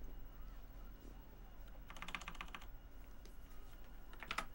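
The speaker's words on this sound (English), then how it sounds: "I can very much tell you have a mechanical keyboard." A loud mechanical computer keyboard clacks in a quick burst of keystrokes, followed by a few scattered single taps and another short flurry, fairly faint against steady background noise.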